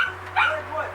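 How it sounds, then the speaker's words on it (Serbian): A single sharp, close dog bark rings out over a low steady hum, with a person's voice briefly audible around it. "Jel ovo što laje, to vaš kjer?"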